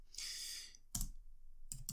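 Keys clatter on a computer keyboard as an answer is entered, a sustained burst of soft clicking followed by two brief clusters of taps, close and fairly quiet with no voices.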